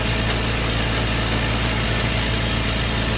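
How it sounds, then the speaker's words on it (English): Simple Pulse vented milking machine running, a dense steady mechanical hum with a low throb, constant and close throughout with no voices. "The vented one sucks more air, so the milk is moved faster and milks faster."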